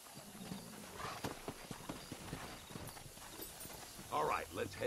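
Horse hooves clip-clop at a steady walking pace in the Western video game Red Dead Redemption, moderately close, with a brief louder burst near the end.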